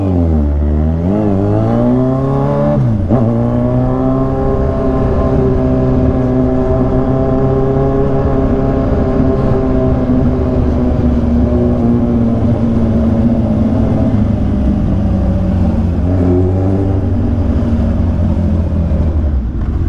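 A BYD electric sports car drives and accelerates on a road in the Philippines. A loud, steady motor whine rises and shifts in pitch, dips briefly, then climbs again as the car gains speed, with no voices.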